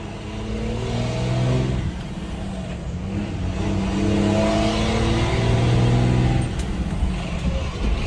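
A new truck's engine revs and accelerates up close, a rough low drone that swells and eases across the stretch, with faint voices underneath.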